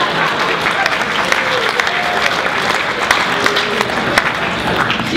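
Audience applause at a high school poetry recitation event, steady dense clapping from a crowd filling the room for several seconds at an even, sustained level.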